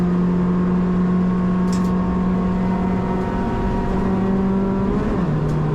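A Citroen DS3 Cup race car at Oulton Park drones at steady low revs from inside the cockpit, a constant loud engine hum that sags in pitch near the end.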